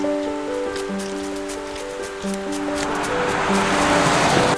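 Rain pours down steadily as a storm picks up in an animated cartoon, growing louder toward the end, while sustained musical tones hum beneath it.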